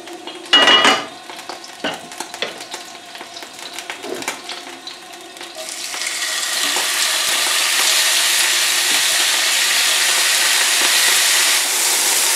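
Chicken breast strips for an avocado-strawberry salad drop into a hot pan with a few utensil clacks, then settle into a loud, steady, broadband sizzle that holds to the end.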